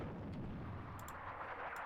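In the tank game Attack at Dawn: North Africa, artillery fire lands as a faint, distant rumble of shell blasts, with a few sharp cracks rising above a steady low roar and no talk.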